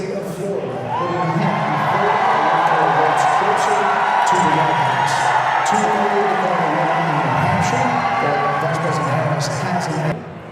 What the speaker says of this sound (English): the crowd gets larger and larger, and they start cheering more and more